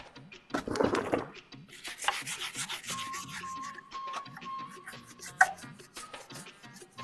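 A dog being scrubbed by hand during a bath, with soft rubbing strokes close by, some louder bursts and a faint steady tone in the background.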